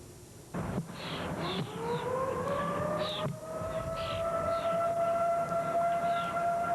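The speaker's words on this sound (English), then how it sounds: "Warning sirens put fear into the hearts of residents in tornado-prone areas." A loud tornado warning siren wails, rising in pitch and holding a long, sustained tone, with faint intermittent noises underneath.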